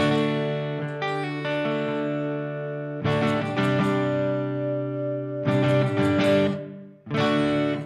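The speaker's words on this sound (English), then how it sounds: "Hall reverb, room." Sustained electric guitar chords through the hall reverb of a Donner Arena 2000 multi-effects processor, several strummed phrases ringing out and blooming into a long, lush tail.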